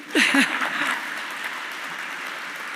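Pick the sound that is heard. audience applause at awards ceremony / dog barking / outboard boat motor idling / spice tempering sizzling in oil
audience applause at awards ceremony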